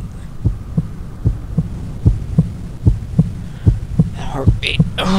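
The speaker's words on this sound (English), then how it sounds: "That heartbeat." A steady, low heartbeat thuds in the video game Afraid of Monsters, regular paired pulses over a constant hum, close and loud, with faint noises near the end.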